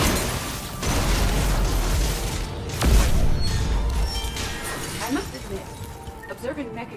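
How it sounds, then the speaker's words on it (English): Mech explosions in the video game Mass Effect 3, a loud blast at about three seconds over dense battle noise and game music, with lighter crashes and pops toward the end. "Observing mech explosions is oddly satisfying."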